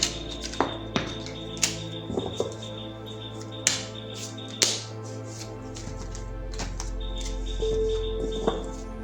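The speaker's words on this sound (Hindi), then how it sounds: "तो पहले ज़रा मैं कार्ड्स को शफल कर लेती हूँ।" Tarot cards being shuffled by hand, a series of close, sharp flicks and soft taps scattered irregularly against a quiet room hum.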